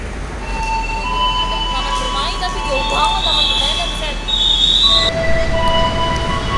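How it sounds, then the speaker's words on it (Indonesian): A KRL Jogja–Palur electric commuter train pulls into Yogyakarta station with loud, sustained wheel squeal and shifting metallic tones over a steady rumble, close by. "Nah, itu ada KRL Jogja Palur ya. Baru saja tiba di stasiun Yogyakarta ini."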